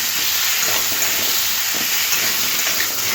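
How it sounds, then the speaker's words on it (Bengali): Diced pumpkin and potato hiss and sizzle loudly in hot oil in a pan, a continuous close frying roar with light stirring, no voices. "এবার দিয়ে দেবো কুমড়ো আর আলু"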